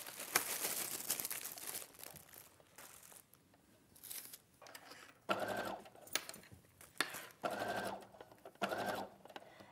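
A sewing machine stitches fabric in several short, busy bursts separated by pauses, mixed with crinkling and rustling as the material is handled.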